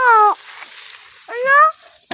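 A cat meows twice, two drawn-out, clear calls close by, with a short click or knock at the end and faint background noise between.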